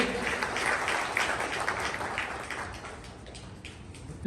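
A crowd at a livestock camp in Gir claps in a dense, moderately loud burst of applause that slowly thins and fades, with faint voices beneath.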